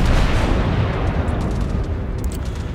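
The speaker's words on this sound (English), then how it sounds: "Looks like the Congo's firing HE over me towards that Nuremberg." Battleship Kongo firing high-explosive shells in the World of Warships naval game, a dense, continuous booming rumble of heavy gunfire that stays loud throughout with no talk over it.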